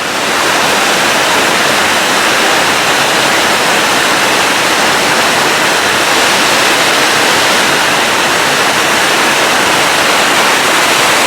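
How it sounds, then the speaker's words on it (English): Water flowing in a stream, running steadily after heavier flow weeks earlier: a loud, close, unbroken rushing hiss that holds at the same level throughout, no voices. "that water's not flowing as heavy as it did a few weeks back, but it's still going pretty good"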